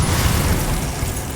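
Spell explosions from Hogwarts Legacy, a Confringo fire blast among rapid casting, give a dense, sustained rumbling boom with crackle that fills the whole moment and stays loud throughout.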